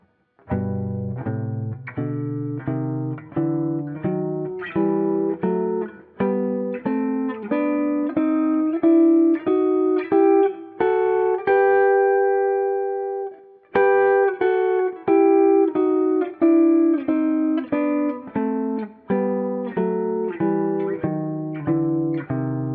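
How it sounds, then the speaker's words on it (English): A clean-toned guitar plays a steady run of paired notes in thirds, climbing and descending in even rhythm, with one sustained chord pausing the pattern midway. "as thirds all the way up and down the register of the guitar"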